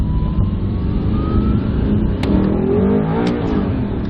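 An Audi R8 supercar's engine drones loudly and steadily while driving, its pitch slowly climbing as it pulls, heard up close with no talking.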